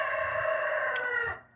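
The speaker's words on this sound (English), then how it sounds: "The rooster's excited about it as well." A rooster gives one sustained, harmonic crow that holds steady nearby and then trails off at the end, alone, with no voices.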